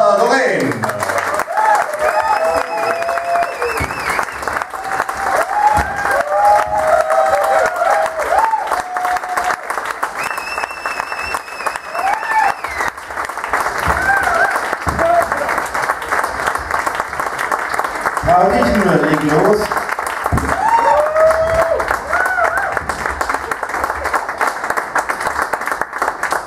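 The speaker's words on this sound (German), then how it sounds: "empfangen wir, liebe Petra, mit einem lauten Applaus, die Queen Mom, Petra Loren." Loud, sustained gala crowd applause welcoming Petra Dorèn, the Queen Mum of Munich, dense clapping rolling on for nearly half a minute, with music and voices mixed in underneath.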